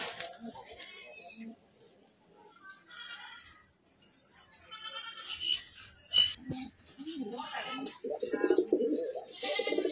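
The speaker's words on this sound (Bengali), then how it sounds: "এটা মাদি কবুতর" Domestic pigeons, including a nesting female with her mate, coo softly in short repeated phrases, with a voice talking nearby over and between the calls.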